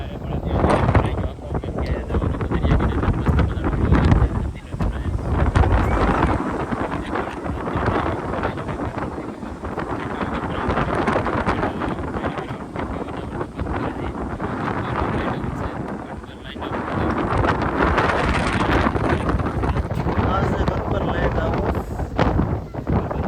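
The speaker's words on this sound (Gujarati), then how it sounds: "અત્યારે ફૂલ પવન છે વોઇસ કે આવશે નહીં" Strong wind buffets and roars into the microphone near an old Bhavani temple, a loud continuous rumble that surges and dips, with voices talking faintly underneath.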